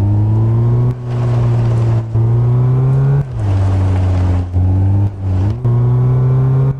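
A car engine in a car transport truck simulator game revs steadily while driving up a transport truck ramp, its loud whirring drone rising and dropping in pitch through several short throttle bursts and brief lifts.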